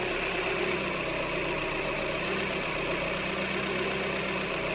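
A 2003 Hyundai engine runs at a steady idle with a constant, slightly uneven mechanical hum, close and moderately loud, while propane is sprayed around a fuel injector with a suspected leaking seal; no voices are heard.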